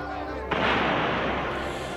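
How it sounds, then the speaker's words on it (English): A single deep cannon boom with a broad rumbling tail that fades slowly over a second and a half, used as an effect for grapeshot fired at insurgents during Shays' Rebellion. "ordered grape shot be fired from two cannons at the insurgents"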